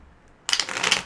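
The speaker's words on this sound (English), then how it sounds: "I'm going to do 5 shuffles." Tarot cards being riffled and shuffled in one quick burst of crisp papery flutter, close and fairly loud after a short silent lead-in.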